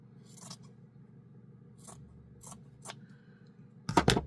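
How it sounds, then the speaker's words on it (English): Scissors make a few sparse, close snips and scrapes through a piece of quilt batting for a sewn heart ornament, ending with a louder double cut. "And then I'm going to cut a piece of batting."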